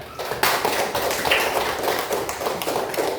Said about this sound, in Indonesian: Mari kita tepuk tangan kepada mereka.